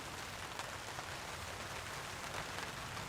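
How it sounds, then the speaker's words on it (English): Rain falling on tarps at a campsite in a heavy storm, a soft, even, continuous patter with faint scattered drops, quiet and steady throughout. "the rain is here and it's starting to settle in for the night"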